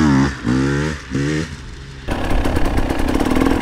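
A KTM 300 two-stroke dirt bike engine revs in sharp rising bursts, then settles into a loud, raspy, buzzing run, close and with no talking.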